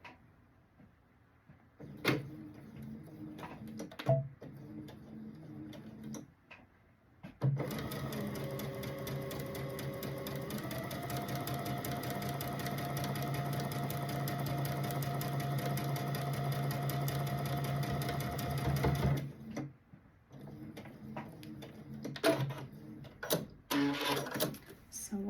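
A sewing machine runs steadily for about twelve seconds, stitching out a Dresden plate pillow, with a rhythmic mechanical whir that shifts pitch slightly partway through. Quieter handling noises come before and after it.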